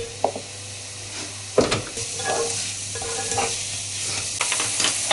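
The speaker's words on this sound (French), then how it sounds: "mis une cuillère à soupe d'huile dans la poêle et on va faire revenir tout ça" Garlic, onions and carrots sizzle steadily in a spoonful of oil in a frying pan, with occasional utensil clacks and scrapes as they are moved around.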